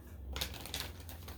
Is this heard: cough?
no